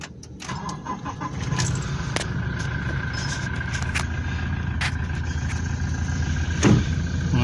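Close by, a Toyota Hilux engine runs steadily after a clutch repair, holding an even mid-pitched hum for the whole stretch with no talking.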